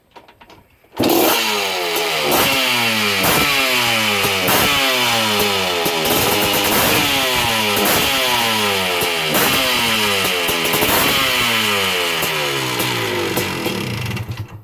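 A 1986 Honda ATC 250R three-wheeler starts up and revs hard and close, throttle blipped in a steady rhythm of rising and falling bursts for about thirteen seconds, with no talking.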